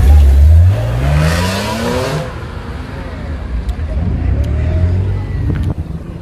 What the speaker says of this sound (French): Petite Golf 6 GTI, très jolie.